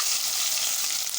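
Chopped onions frying and being stirred in a pan, a brief, steady hiss of sizzling oil heard up close with no voices.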